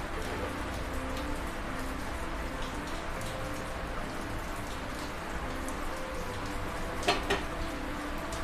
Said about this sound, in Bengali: বাইরে এখনো বৃষ্টি তো ট্যাপ ট্যাপ ট্যাপ ট্যাপ করে বৃষ্টি পড়েই যাচ্ছে